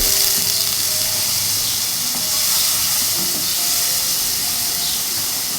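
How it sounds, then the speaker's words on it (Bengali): Ginger paste and spices fry with a little water in a pan, giving off a loud, dense steamy hiss that holds steady with small bubbling crackles throughout. "আদা বাটা দিয়ে দিয়েছি অল্প জল দিয়ে দিয়েছি কষিয়ে নেব ভালোভাবে"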